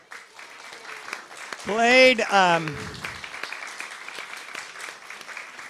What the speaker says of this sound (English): they're all clapping for you